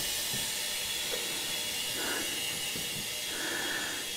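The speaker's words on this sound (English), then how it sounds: "Open the outlet valve. Let the muffler do its job." Compressed air venting steadily from a pressure tank through a muffler on the outlet valve during casting work, a continuous hiss at constant loudness for the whole stretch, with no talk over it.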